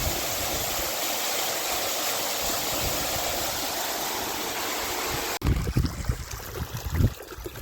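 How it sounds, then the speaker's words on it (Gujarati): Water from a motor pump gushes out strongly, a loud steady rush of flowing water that breaks off partway through into rougher, splashing bursts. "જો મિત્રો પાણી આવે જોરદાર."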